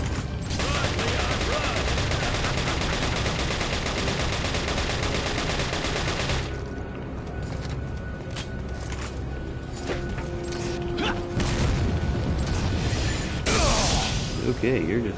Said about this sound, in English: Why are you throwing grenades, bro?